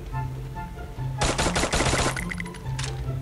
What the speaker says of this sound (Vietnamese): tốc độ bắn của khẩu này khá là nhanh nha mọi người